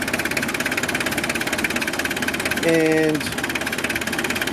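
A 1993 Mitsubishi Delica Starwagon Chamonix with a 2.5 liter turbo diesel idles with a steady, close clattering rumble, a short rising whine cutting in partway through, and a brief word of speech at one point.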